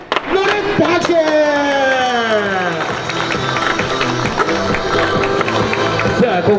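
Audience clapping and cheering at a freestyle skateboard demonstration in a shopping mall, rising under an excited announcer's voice, with crowd noise and rolling board sounds mixed in.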